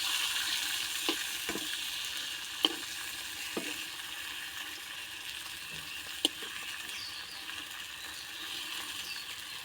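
Tomatoes fry in a pan with a steady low sizzle, broken by a few sharp clicks and scrapes of stirring, with no voices.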